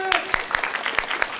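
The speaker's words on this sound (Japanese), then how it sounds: "一回拍手の練習してみますよ。" An audience at a charity television event with an electone performance practises applause, giving scattered, distinct hand claps that build into a quick irregular patter, with a voice briefly audible at the start.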